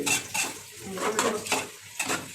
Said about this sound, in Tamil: ஒன்றரை பாக்கெட் தயிர் போடணும் போட்டு மிக்ஸ் பண்ணுங்கள்